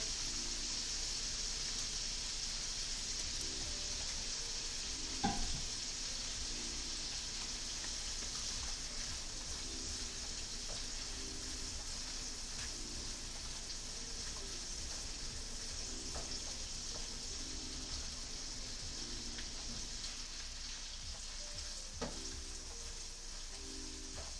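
Garlic frying with shrimp in butter in a pan sizzles in a steady, even hiss throughout, with a couple of brief sharper crackles and faint scraping from stirring, no talk over it.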